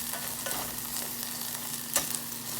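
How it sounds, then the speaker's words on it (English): Onions browning in a frying pan for a macaroni, egg and cheddar casserole give off a steady close sizzle, with a spoon scraping and stirring through them and one sharper clatter near the end. "So therefore, I stir it around, making sure that it doesn't get too brown in one place."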